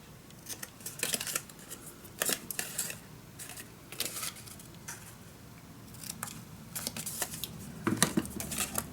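Scissors cutting paper for a steampunk Christmas mini album, close-up snips coming in short irregular clusters with quiet pauses between them, and no speech.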